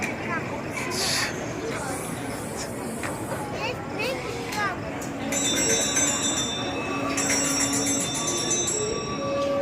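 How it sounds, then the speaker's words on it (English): A school bell rings steadily through the second half over a busy background of crowd babble and indistinct voices during a drama performance. "Did you hear the bell? It's break time."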